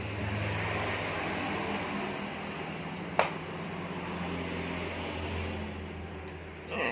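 Half-horsepower, 500-watt electric motor driving a noodle-making machine converted from manual to automatic, giving a steady droning hum with a low mechanical whir, one sharp click partway through and a slight swell at the end.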